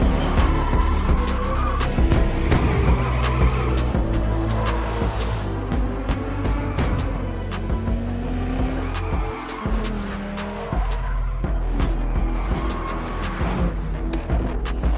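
Cars drifting in GTA Online: a continuous, loud roar of revving engines layered with long, wavering tire squeals and skids that rise and fall throughout.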